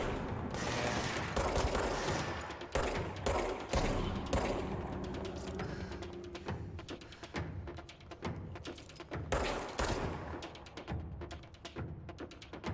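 Rapid bursts of gunfire come from the video game Control while enemies are shot, loud and close. The shots land in dense irregular volleys with short gaps and mechanical clatter between them.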